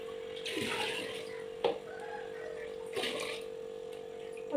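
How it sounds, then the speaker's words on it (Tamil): Water poured into a fish bowl while a fish tank is cleaned, heard as a steady trickle with a constant hum underneath and a few brief splashy bursts. "நம்ம வந்து தண்ணி வந்து இந்த பவுலுக்கு கொஞ்சம் ஊற்றிடுவோம்"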